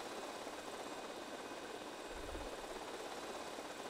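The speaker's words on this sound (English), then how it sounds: "It's not a toy, guys, it's a helicopter." Helicopter in the GTA Vice City video game, a steady broadband rotor and engine roar that continues throughout, with a brief low thump near the middle and no talking.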